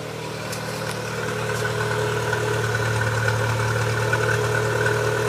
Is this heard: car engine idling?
yes